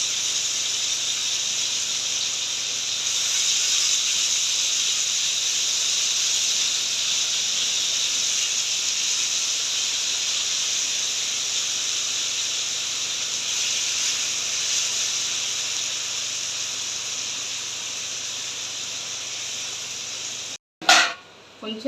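Fish pieces fry in hot oil with green chilies and curry leaves, giving a steady, loud broadband sizzle and hiss that runs unbroken for about twenty seconds before a short clatter near the end.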